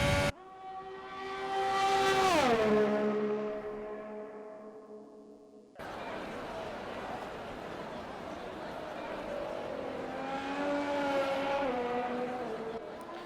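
An Alfa Romeo race car engine in a racing video game climbs through the revs in a loud rising whine, drops at a gear change, then winds up again at high speed, with a commentator's voice over it.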